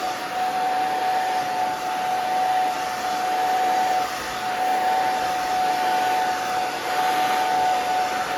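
A hair dryer blows steadily with a sustained whine while short curly hair is round-brushed during styling, loud and close throughout with no pauses.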